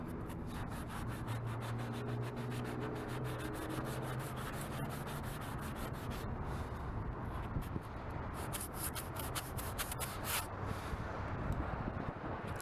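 A block being sanded by hand while restoring a car indicator lens: steady, dense rubbing and scraping strokes that run continuously and loudly throughout, with no talking.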